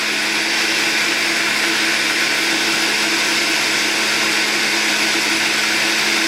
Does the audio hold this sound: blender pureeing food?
yes